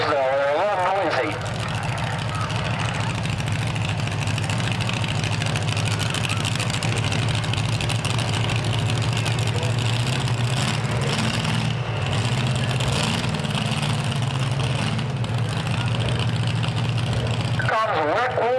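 Modified pulling trucks roar at a truck pull outside a fire station, a loud sustained engine drone with deep low rumble running unbroken throughout, rising and surging in places as the trucks pull.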